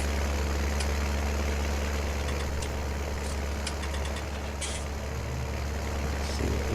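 A small tractor engine runs steadily on a farm while haying, a loud continuous idling drone with faint higher hisses and clicks over it, no talking.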